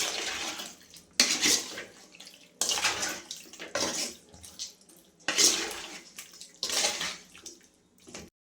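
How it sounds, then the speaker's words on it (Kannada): Half a glass of water splashed into a pan of Mangalorean chicken sukka, several close, sharp sloshing bursts separated by short quieter pauses. "ಇವಾಗ ನಾನೊಂದು ಅರ್ಧ ಗ್ಲಾಸಷ್ಟು ನೀರು ಹಾಕಿದ್ದೀನಿ."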